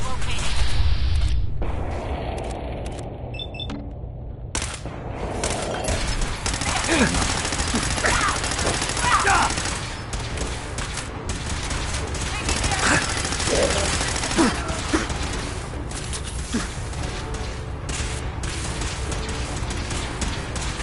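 Sustained gunfire and booming combat noise from Fallout 4, dense bursts and heavy impacts rolling on for about twenty seconds, with voices speaking over the fighting.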